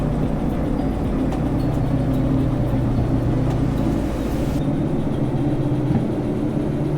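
Three locomotive engines pulling a long train out of a yard in the Derail Valley video game, a steady low droning rumble with humming tones that holds throughout without break.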